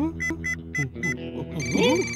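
A phone ringtone in a cartoon chirps in quick repeated bursts, then a brief melodic jingle plays, bright and close.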